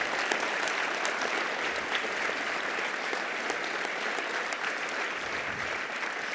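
A conference audience at ng-conf, the Angular event, applauds its sponsors, a dense and steady wash of clapping from a large crowd that holds at an even level throughout with no speech over it.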